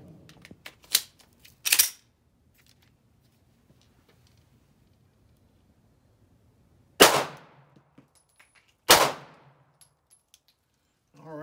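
Pistol shots from a Polymer 80 handgun fitted with a Strike Industries Jellyfish RMR cover ring out outdoors. There are a few quick cracks at the start and two loud, isolated reports later, separated by quiet gaps.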